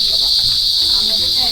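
Crickets chirp in a steady, loud, continuous high trill at nightfall in the Philippines, with faint low background noise beneath.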